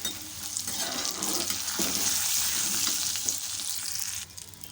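Urad dal and chana dal sizzle and crackle steadily in hot oil with cumin, a dense close frying hiss that holds loud throughout with faint stirring underneath.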